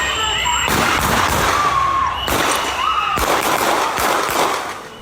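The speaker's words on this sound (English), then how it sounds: "But you heard those gunshots." Gunfire rings out across a street in the Whittier neighborhood of South Minneapolis in news footage, several loud sharp cracks in separate bursts with echoing tails over a steady noisy background.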